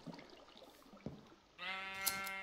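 A sheep in the Minecraft video game lets out one loud, drawn-out bleat after a quiet stretch of faint game ambience, with no talking.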